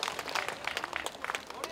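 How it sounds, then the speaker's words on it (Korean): Applause from a lecture audience at a Korean unification event, a short burst of dense clapping from many hands, moderately loud and continuous. "정말 다시 한번 뜨겁게 박수 한번 부탁드리겠습니다."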